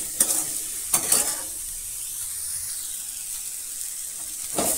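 Radish for a spicy chutney is sautéed in a pan, giving a quiet, even sizzle punctuated by a few sharp scraping stirs near the start and again at the end.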